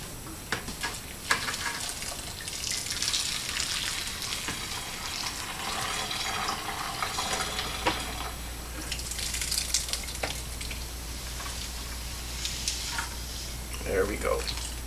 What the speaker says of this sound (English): So what I'm going to do is I'm going to sparge this grain, get rid of it, and then do the next part here.